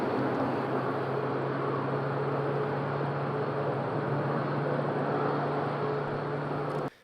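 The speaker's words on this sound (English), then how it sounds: "Back-to-back Ryanairs take off." Ryanair airliners taking off back-to-back at a windy island airport, heard as a steady broad roar of jet engines and wind holding level throughout before cutting off abruptly, no voices.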